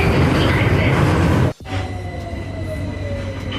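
A London Underground tube train pulls into Green Park station, loud rumbling roar cutting to a brief hush, then a steady hum with a thin rising whine of slowing wheels.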